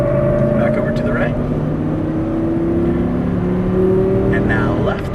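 An Audi R8 V10 accelerates hard on a race track, its engine note rising in pitch as it climbs, loud and close. A voice talks over it through the clip.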